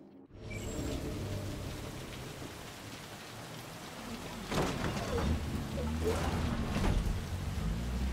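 Steady rain falls in Night City in the video game Cyberpunk 2077, a dense close hiss on surfaces with a few low rumbles and clicks, no talking over it.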